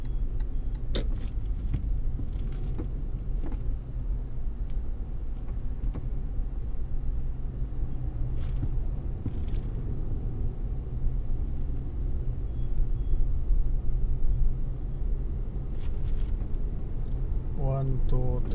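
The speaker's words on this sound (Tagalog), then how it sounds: "6 na sasakyan, guys" Cars passing by on a city road in night traffic at half past one in the morning: a steady, continuous engine and tyre rumble, moderately loud throughout, with a few brief higher swishes, and voices faintly present.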